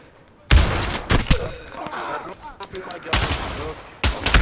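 Gunshots in a VR video game, loud sharp bursts of rapid fire in several separate clusters with short gaps between them, and people talking over the shooting.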